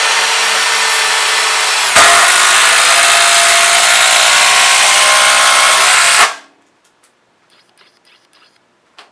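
A Kobalt XTR impact driver sinks a 6 1/4 inch timber lock screw with a loud, continuous hammering whir lasting about six seconds, jumping in intensity partway through before stopping abruptly, followed by faint handling clicks.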